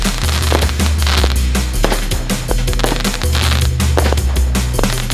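A box fireworks cake fires a rapid continuous volley of shots during a New Year celebration, loud and close, with dense crackling bursts and deep booms throughout.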